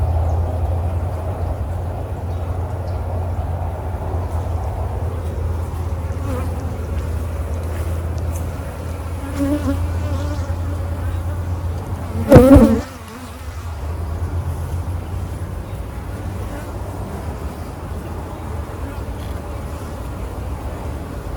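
Honeybees swarm around an open hive being split, a continuous close buzzing drone that lasts throughout, broken by one short knock or clatter partway through.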